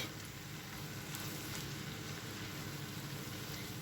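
Onions frying in butter in a pan, with a faint, even sizzle that hisses steadily throughout and no voices.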